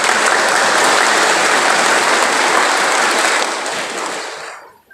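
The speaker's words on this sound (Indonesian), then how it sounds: "Jangan tepuk tangan terus." Sustained applause from a large audience at a civil-service training closing ceremony in Keerom Regency, Papua, loud and dense, then fading away over the final second.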